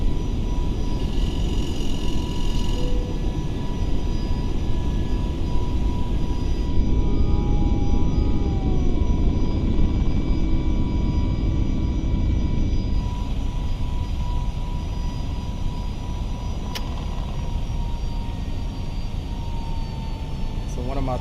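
FSLabs A321neo jet engines roaring steadily while climbing after takeoff in a flight simulator game, a loud continuous rumble lasting throughout with faint whining tones layered over it.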